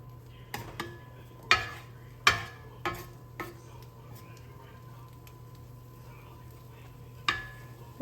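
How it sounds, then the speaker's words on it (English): Veggies and meat for a cowboy frittata are mixed in a pan, with a handful of sharp utensil clicks and scrapes against the pan over a faint steady hum, spaced irregularly and fairly close. "Just mix that around a little bit."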